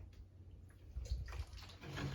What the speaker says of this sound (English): fill up the tray of water there